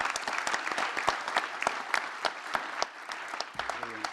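An audience at a cooperative builders' congress medal ceremony applauds, many crisp separate claps rattling at a moderate, slightly uneven pace that thins toward the end as a voice begins.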